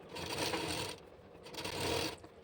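A sewing machine stitches the front part of a maxi dress made from an old saree, running in two close bursts of whirring mechanism with a quieter gap between them and no voices.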